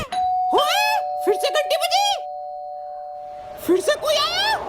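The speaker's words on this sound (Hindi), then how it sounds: "फिर से घंटी बजी, फिर से कोई आया।" A doorbell chime sounds steadily behind excited voices talking over it, with a brief pause before the talking resumes.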